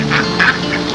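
A duck quacks three or four times in quick succession, close and clear against a low background hum.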